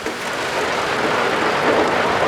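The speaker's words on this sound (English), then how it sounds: "it's outside, so the rain finally hit." Rain finally falling outside in Fukuoka, Japan makes a continuous, even hiss of drops on surfaces, close and fairly loud, holding steady throughout without any talking.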